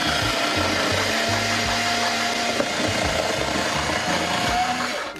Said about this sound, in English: Let's try this box.